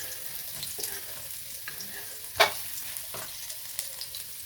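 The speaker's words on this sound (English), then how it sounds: "I'm going to let these saute maybe for 2 minutes" Onions, carrots and Scotch bonnet sautéing in coconut oil, a soft, steady sizzle with occasional sharp clicks of a utensil against the pan, close and fairly quiet with no talk.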